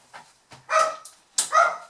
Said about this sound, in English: I just need to stop the dogs from barking.